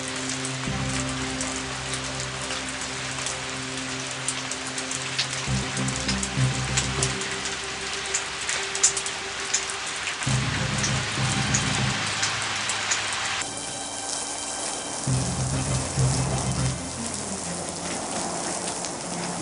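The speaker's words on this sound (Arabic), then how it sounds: "دي بتشتي قوي" Heavy rain pours steadily and densely for the whole stretch, a loud broadband hiss of drops hitting surfaces, with a low droning musical bed running beneath it and no voices.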